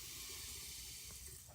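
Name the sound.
liquid being poured into soap mixture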